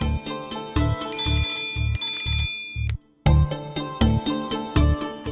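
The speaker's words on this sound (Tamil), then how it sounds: "ஜோதி போன் பண்றா." A phone rings loudly nearby in a repeated electronic ringtone pattern of rapid bell-like pulses, briefly cut off for a moment before the ringing resumes, with no speech.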